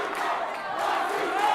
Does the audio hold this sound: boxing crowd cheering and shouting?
yes